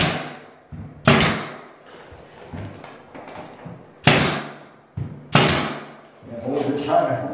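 Sharp, loud blows strike drywall between metal studs in a basement being finished, several separate impacts spaced a second or more apart, with someone talking in between.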